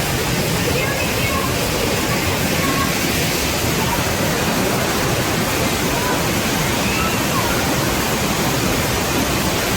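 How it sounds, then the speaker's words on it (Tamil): Thirparappu waterfall in Kanyakumari district, running high with heavy flow, roars loudly and continuously as a dense, unbroken wash of rushing water close by. "Thirparappu water fall."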